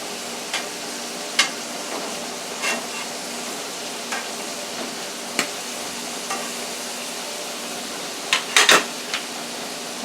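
Chicken livers fry in a pan with a steady, even sizzle, broken by a few sharp utensil clinks and scrapes scattered through it.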